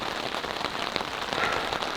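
Heavy rain drums steadily on a tent at a campsite in Boulder, Colorado, a dense, close patter of drops with no voices.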